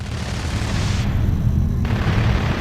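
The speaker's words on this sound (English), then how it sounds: "No need to rush towards the gunshots." Dense, rumbling gunfire and booming blasts in the video game Starfield, a continuous low-heavy barrage with no pauses, fairly loud throughout.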